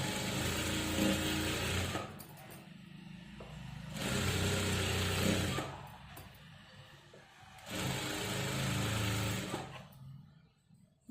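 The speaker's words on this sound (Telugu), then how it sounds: "చూడండి, బ్యాక్ పట్టి ఇట్లా స్టిచ్ చేసుకోవాలన్నమాట." A sewing machine stitching a blouse back runs in three steady whirring bursts of about two seconds each, separated by short quieter pauses, close and moderately loud.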